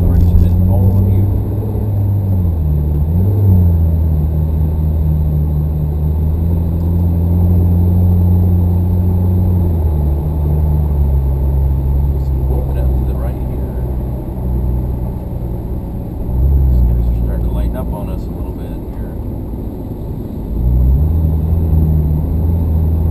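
A Porsche sports car on a track, its engine droning loud and steady from inside the cabin with pitch rising and falling through shifts, beneath continuous talking.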